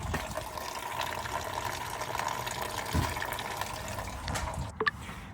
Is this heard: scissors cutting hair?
no